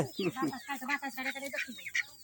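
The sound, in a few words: turkey hens clucking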